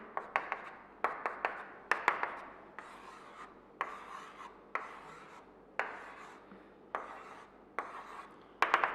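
A marker or chalk scratches across a classroom board as a teacher draws a benzene structure: a series of short, quick strokes and rubs in an uneven rhythm, close and fairly faint, with no talk over them.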